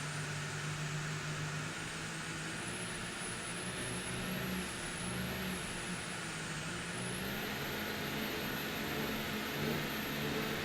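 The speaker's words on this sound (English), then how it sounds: "Diesel's got quite the funny sound, but they always run strong" A diesel engine on a P3 class race boat drones steadily at a low, rumbling pitch, loud and continuous with a faint high whine riding above it, during the 2004 Dania Grand Prix, Florida.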